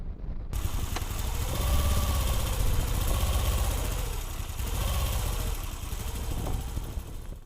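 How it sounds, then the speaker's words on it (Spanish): A Moto Guzzi V7 Stone motorcycle idles close by with a steady, loping low throb that varies slightly in pitch and carries on unbroken until it cuts off at the end. "Vamos a escuchar al ralentí un poquito este motor de nuevo."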